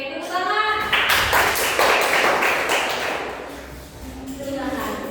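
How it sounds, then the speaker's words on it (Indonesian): A class of vocational high school students bursts into applause, a loud, dense clatter of many hands that starts after a brief spoken line, peaks for a couple of seconds, then tapers off before voices return. "Oke, tepuk tangan."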